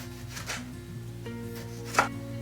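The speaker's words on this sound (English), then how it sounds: "let's slice a juicy tomato" A knife slicing through a juicy tomato on a cutting board, a few soft cuts followed by one sharper knock of the blade on the board, close up over quiet kitchen hum.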